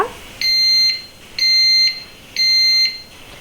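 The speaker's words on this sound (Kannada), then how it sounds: "20 ಮಿನಿಟ್ಸ್ ಆದ ನಂತರ ಇದು ಬೀಪ್ ಸೌಂಡ್ ಕೊಡುತ್ತೆ, ಆವಾಗ ಆಗಿದೆ ಅಂತ" A Geek RoboCook electric cooker signals that cooking is finished with three loud, evenly spaced electronic beeps, each about half a second long and sounding alone.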